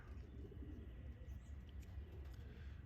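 Pigeons around a backyard loft and aviary coo softly at a distance over a low, rumbling background, with faint chirps mixed in.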